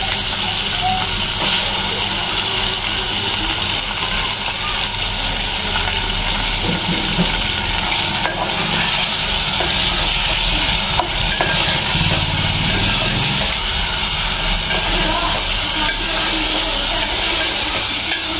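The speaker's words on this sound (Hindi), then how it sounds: "अदरक लहसुन के होकर अब कीमा डालेंगे।" Minced meat dropped into a pan with browned onion and ginger garlic paste, frying for a potato-and-pea keema curry; a steady, loud sizzle and hiss runs throughout with no talking.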